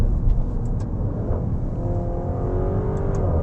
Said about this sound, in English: a Maserati V8 is one of the most intoxicating sounds in motoring